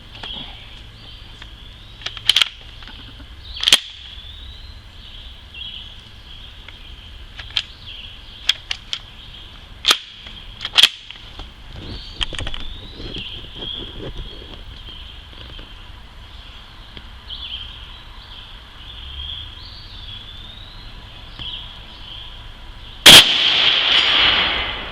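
Remington Model 141 slide-action rifle fires .35 Remington Hornady FTX cartridges at a plate 220 yards away. Several sharp, sudden cracks are scattered over a steady high hiss, and the loudest report comes near the end.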